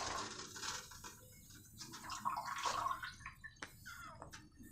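After a coconut is broken, its water is poured out in an irregular trickling and splashing with scattered drips and a few small knocks; faint and close, with no talking.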